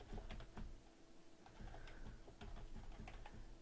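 Soft, rapid keyboard clicks tap out in quick irregular bursts, quiet and close, with no voices.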